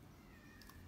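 A house cat gives one short, faint meow partway through, barely above a quiet indoor background.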